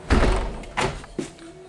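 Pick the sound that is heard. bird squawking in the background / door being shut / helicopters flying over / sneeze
door being shut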